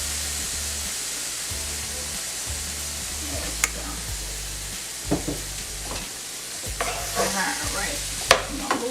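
Beef fries in oil in a pan, a bright, continuous sizzle with scattered spatters and utensil scrapes, over a low, steady hum in the background.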